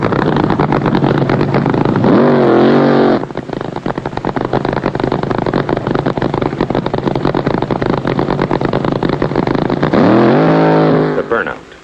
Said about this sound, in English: The burnout. That's what the crowd loves. Noise and tire smoke and the fire from the engine exhaust.